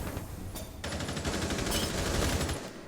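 Sustained gunfire from a Black Ops 3 firefight, with dense rapid shots and crackling bursts running almost continuously at fairly close range, briefly dipping before the firing picks up again.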